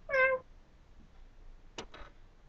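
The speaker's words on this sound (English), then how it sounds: "Cats." Cats meow: one clear, loud meow at the start, then after a quiet pause a pair of fainter, shorter mews close together.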